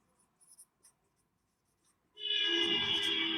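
Marker or chalk writing on a board during a maths lesson, a few faint taps and then a loud, continuous scratchy stroke close by, with no talk over it.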